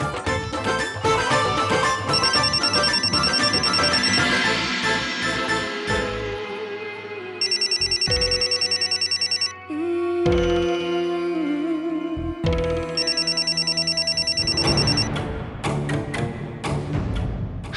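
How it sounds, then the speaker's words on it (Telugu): A phone rings with an incoming call, a repeating melodic ringtone over about eighteen seconds, loud and close, with bursts of bright tones and pauses between phrases. "ఫోన్ వచ్చింది నాకు."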